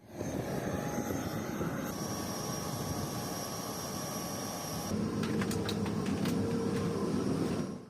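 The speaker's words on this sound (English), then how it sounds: "the Embraer from Airlink started taxiing, also flying to Johannesburg" An Airlink Embraer jet taxis on the apron, a steady loud engine whine and roar that holds for several seconds, then shifts tone partway through while the rumble continues.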